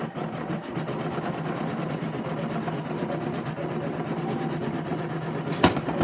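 A sewing machine stitches embroidery onto the bottom of a fabric basket with a steady, rapid mechanical chatter, close and continuous, ending in a sharp click near the end.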